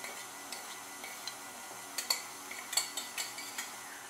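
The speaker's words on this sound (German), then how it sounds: "die Creme rührt, oder besser gesagt der Schneebesen rührt" A wire whisk stirs cream for a no-bake peach cookie torte, making faint, quiet scraping ticks against the bowl at an uneven, loose rhythm that grows slightly busier toward the end.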